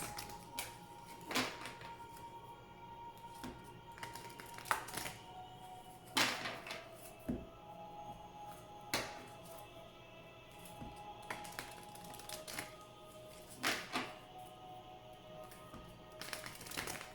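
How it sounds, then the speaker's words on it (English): A deck of oracle cards is shuffled in a quiet room, with soft irregular riffles and taps spaced every second or two, each brief and fairly faint. "Please think of your question while I shuffle the cards."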